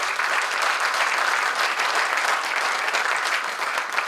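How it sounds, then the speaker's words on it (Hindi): Enthusiastic audience applause for Mittal ji at a national poets' gathering in India, a thick, continuous roar of many clapping hands, loud and even from start to finish with no speech. "तो एक बार बहुत जोरदार भरपूर तालियां"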